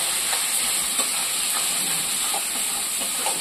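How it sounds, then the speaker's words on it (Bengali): Spices with salt and turmeric frying in a pan, giving a continuous loud hiss and sizzle with faint scraping from stirring. "একটু কিছুক্ষণ নাড়াচাড়া করা হবে, কষানো হবে মশলাটা"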